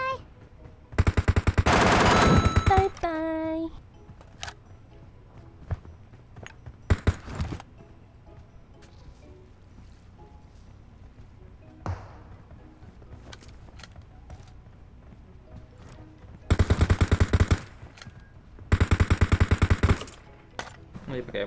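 Bursts of rapid automatic gunfire in an online shooter video game, loud clustered volleys at the start and near the end with a few isolated shots between, while players talk over it.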